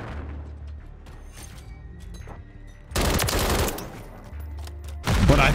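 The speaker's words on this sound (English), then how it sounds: "since I EMP'd them, they're all shooting each other" Automatic gunfire in Modern Warfare 3 as EMP-disabled enemies shoot one another, a sustained low rattle of bursts that swells into louder, denser volleys near the middle and again at the end.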